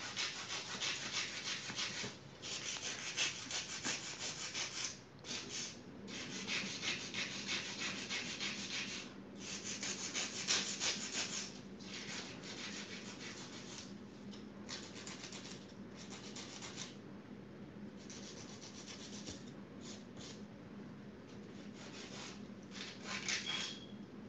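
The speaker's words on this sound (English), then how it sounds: "I like to hand file first." Steady rasping strokes of a hand nail file on fingernails during a salon manicure, continuous and close, with brief pauses between bursts of filing and no talking.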